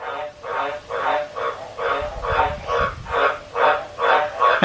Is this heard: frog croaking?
yes